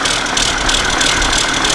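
The rebuilt engine of a BR 400 snow groomer runs steadily, a loud, close, rattly drone with a constant throb and no pauses.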